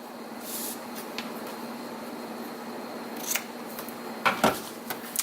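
Scissors snip ribbon bow tails on a handmade card, a few short crisp cuts near the end over a quiet room hiss, close and soft.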